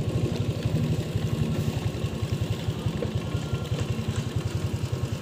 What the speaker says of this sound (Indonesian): Mesin sudah nyala.